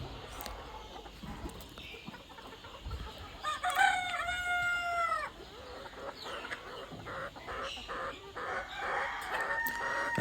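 Country chickens cluck and a rooster crows in a run after going without water all morning, the bird calls rising over a steady rustling farmyard background as the flock drinks nonstop.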